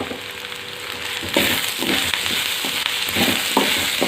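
Onions frying with salt in a pan, a constant close sizzle with intermittent scraping stirs of a spatula, loud and steady throughout with no speech.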